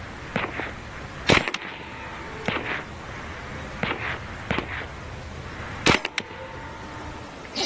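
A Hatsan Blitz .30 caliber PCP air rifle fires several sharp, loud cracks at uneven intervals, each shot followed by a short pop and a faint ring, with quiet stretches between shots.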